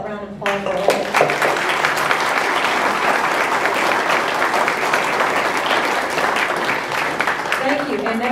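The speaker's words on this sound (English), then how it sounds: "can we give them all a round of applause for all?" An audience at a county primary candidate forum breaks into a loud, sustained round of applause for the candidates, dense clapping filling the room for several seconds, with a voice briefly heard at the start and end.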